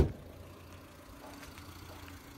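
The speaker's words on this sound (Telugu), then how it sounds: "మనకి ఇంజన్ బీడింగ్ వింటున్నారు కదా, ఎంత సైలెంట్ ఉంది" A Tata Indigo GLX car idles at rest, a quiet, low, steady engine hum after a brief bump at the start, with faint background noise and no talk.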